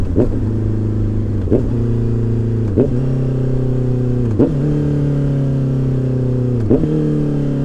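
A Honda CBR 650R engine blipped for downshifts, with about six sharp revs rising and falling over a steady idling drone, loud and close, with no talking.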